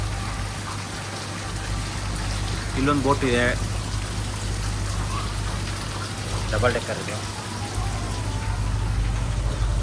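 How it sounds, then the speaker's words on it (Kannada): Heavy rain pours steadily at a houseboat in Alleppey, a loud, even hiss that fills the whole stretch while someone speaks briefly over it twice. "ಹೆವಿ ಮಳೆ ಬರ್ತಾ ಇದೆ ಇಲ್ಲಿ ಮಾತ್ರ."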